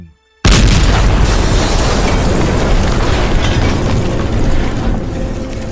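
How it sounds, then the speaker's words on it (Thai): A sudden, loud explosion bursts after a brief quiet moment, followed by a sustained roaring rumble that slowly fades. "แรงระเบิดนั้นมหาศาล"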